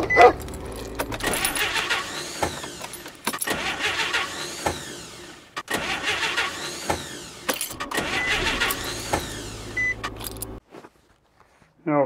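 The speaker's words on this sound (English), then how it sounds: "got the neighbor over and he helped me start my car" A car being started with a neighbor's help: the engine cranks in repeated strained bursts, each winding up and cutting out, with keys jangling near the start, before everything falls quiet at the end.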